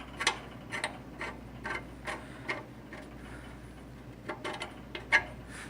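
A bandsaw's tensioner screw is turned to lower the wheel, giving a series of soft, irregular ticks and ratchet-like clicks, close and fairly quiet, spread across a few seconds.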